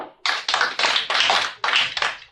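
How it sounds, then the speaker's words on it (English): A few audience claps sound as sharp separate hand claps in a room, about six quick ones, fairly close and loud, with no speech. "Give him 3 more claps"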